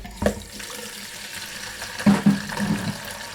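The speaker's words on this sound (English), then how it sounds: "we're going to fill this bucket up with water." Tap water runs into a homebrew bucket, a steady rushing flow with splashing bursts, close and moderately loud, with no voices.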